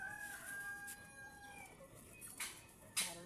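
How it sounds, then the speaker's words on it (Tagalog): Backyard chickens cluck and a rooster crows, fairly close, with short calls and squawks scattered across the moment; no talking. "Ito po pala yung mga manok ko."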